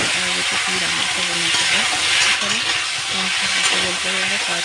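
Cumin seeds tempering in hot oil in a home kitchen, a steady broadband sizzle and hiss running throughout, loud and close, with a faint recurring tonal hum underneath.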